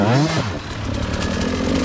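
A KTM 200 EXC two-stroke enduro motorcycle engine revs hard and close, its buzzing pitch climbing sharply at first and then holding a raspy, steady high rev.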